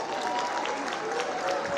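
Dense, sustained applause and crowd noise rise for performers from KZN at the SADTU national congress, a steady wash of hand claps with voices mixed in.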